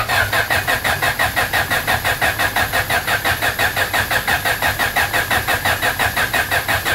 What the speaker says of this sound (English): check it on the crank down there just for fun